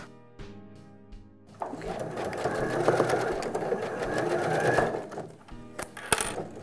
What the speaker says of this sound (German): Jetzt vernähen wir erstmal die andere Seite.